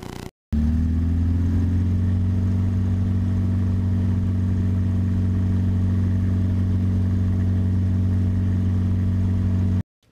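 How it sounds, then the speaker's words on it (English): A Rotax 912 aircraft engine with dual exhaust runs steadily and loudly at a constant speed, a deep droning hum with no talk over it, starting abruptly and cutting off near the end. "That's what a dual exhaust sounds like on a Rotax 912."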